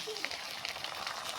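Ground spice paste hits hot frying oil over already-fried onions, giving a steady, close hiss and crackle that runs unbroken for about a second and a half.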